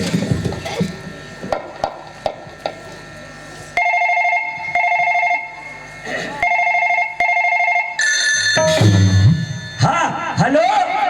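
An old police station telephone rings in repeated bursts of bright electronic trilling separated by short gaps, loud and close, with people talking and other noise before and after the rings.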